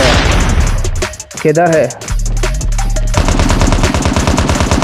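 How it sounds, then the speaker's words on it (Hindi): Rapid automatic gunfire bursts from a Call of Duty battle royale match, loud and sustained with a brief lull, while someone speaks over the shooting. "ये शत्रु गोलियां तो चला रहा है"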